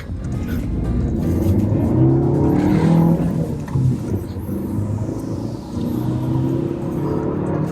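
A Maruti Suzuki S-Cross engine rumbles steadily as the car rolls off-road over a rough divider area, with bumps and shifts in the low drone, no voices.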